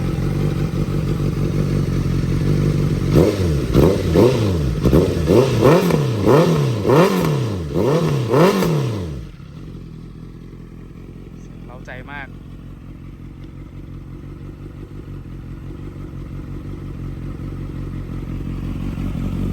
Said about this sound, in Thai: เสียงเครื่องเงียบๆครับ